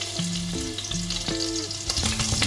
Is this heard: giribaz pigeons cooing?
no